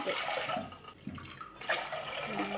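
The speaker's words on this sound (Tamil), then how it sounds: "மூணே முக்கால் டம்ளர் வந்து தண்ணி வச்சுக்கலாங்க தண்ணி சேர்த்திக்கலாங்க" Water poured into a cooking pot of sorghum, a continuous splashing gush running close by, briefly easing and then resuming, without talking.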